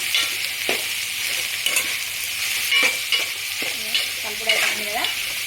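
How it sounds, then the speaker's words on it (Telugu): Bottle gourd and carrot fry being stirred in a pan, a steady sizzle with repeated scraping strokes of a spatula, close and fairly loud throughout. "ఒకసారి మళ్ళీ కలుపుదాం చూడండి ఫ్రెండ్స్ ఇక్కడ మళ్ళీ కలుపుకుందాం"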